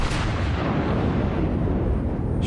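A heavy naval gun salvo booms in the World of Warships video game, one loud sustained roar of blast and rumble filling the moment, with no voices.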